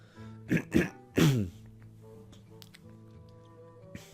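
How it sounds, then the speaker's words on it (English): Someone nearby clears their throat in three quick, rough bursts, followed by near silence. "Let me just clear my throat."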